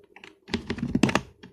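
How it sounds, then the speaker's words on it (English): Someone types a short command on a computer keyboard, a quick close burst of crisp key clicks after a couple of light taps, with no speech. "So for that I will just type Java space"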